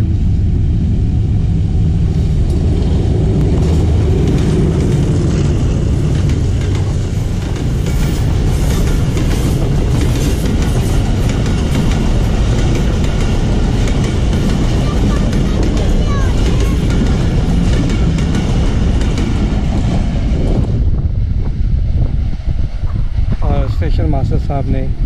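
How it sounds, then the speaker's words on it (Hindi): The Rehman Baba Express passenger train, out of Peshawar, pulls away from Burhan railway station with a loud, continuous rumble and rattling wheel noise that holds steady, then thins near the end. "साहब ने ग्रीन झंडी दे के गाड़ी को रवाना कर दिया है।"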